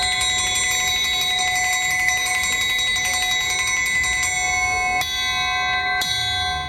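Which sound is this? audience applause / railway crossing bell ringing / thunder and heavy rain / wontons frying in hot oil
railway crossing bell ringing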